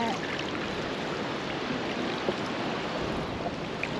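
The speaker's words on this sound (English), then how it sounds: "just the sound of the ocean" Steady broadband wash of surf rolling in on a beach at Candidasa, Bali, a constant roar of ocean waves with some wind, no voices.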